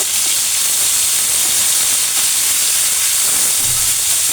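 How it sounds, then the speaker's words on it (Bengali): Chopped onions frying with beef in a pan for a restaurant-style beef vorta, a loud, continuous broadband hiss of hot oil that stays even for the whole stretch, with no voices. "এখন আমি দিয়ে দেব কেটে নেওয়া পেঁয়াজ। তো আমি এখন এটাকে ভালো করে ভেজে নেব।"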